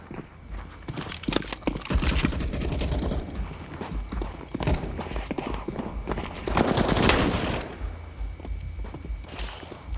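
Video game weapon gunfire cracks out in rapid bursts and single shots, mixed with footsteps and busy game effects, fairly loud and dense throughout with no talk over it.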